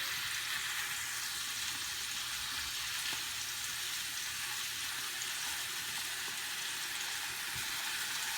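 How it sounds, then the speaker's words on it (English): Skinless sweet longanisa sausage browns in oil in a pan, a steady dense sizzle that fills the whole stretch without pause, close and even with no talk. "Just make sure that you brown every side of the sausage."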